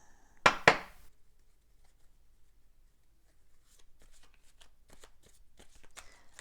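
A small deck of oracle cards is given one loud, close shuffle of two sharp bursts near the start, followed by faint scattered card clicks and handling noises.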